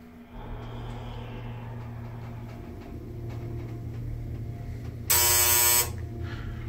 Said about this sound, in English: What a weird buzzer. Oh, that scared me.